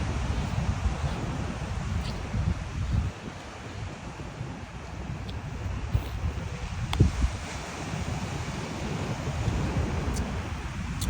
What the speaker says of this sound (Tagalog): Ang lakas ng mga alon.